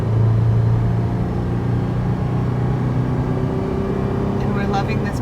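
A Toyota 4Runner engine labors at about 2,500 RPM while towing a NOBO 19.2 travel trailer on the interstate, giving a steady low drone and road rumble throughout, with a few faint high tones near the end.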